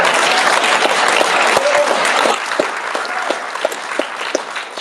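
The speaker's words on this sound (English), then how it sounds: "Let's give these two a round of applause." A high school awards night audience applauds loudly and densely, the sound gradually thinning into scattered individual claps toward the end.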